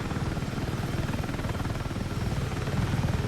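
A Battlefield 6 helicopter drones with steady rotor thumping and engine roar, a close, continuous chopping pulse that grows slightly louder toward the end, with no voices.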